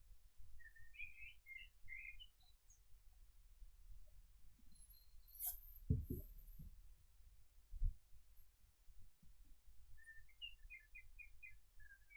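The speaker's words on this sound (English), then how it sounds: "You got some birds going on?" Birds chirp faintly in the background in short, high bursts near the start and again at the end, with a couple of soft thumps and low room rumble between.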